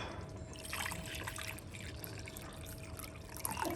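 Water trickles steadily from a bowl into a pot of lentils for Moroccan-style lentils, a continuous close liquid pour with soft splashing and bubbling that holds even from start to finish.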